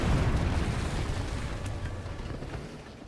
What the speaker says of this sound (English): Driving up here with the artillery drop going on was probably not my smartest idea